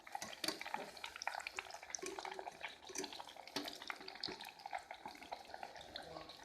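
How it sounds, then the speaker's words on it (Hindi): Chicken nuggets fry in oil over a medium-low flame, giving a steady crackling sizzle with scattered sharper pops at close range and no voices. "गोल्डन ब्राउन होने तक मीडियम टू लो फ्लेम पे इन्हें फ्राई करेंगे।"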